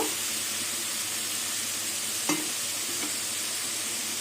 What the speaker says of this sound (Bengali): এবার মশলাটা কিছুক্ষণ কষিয়ে নেব